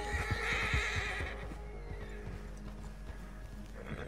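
A horse in the video game Red Dead Online neighs loudly near the start, its hooves clip-clopping in an uneven rhythm that continues through the rest of the moment, fairly close by.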